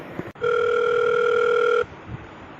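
After a sharp click, a telephone gives a steady, loud electronic tone lasting about one and a half seconds, then stops, leaving quiet room noise.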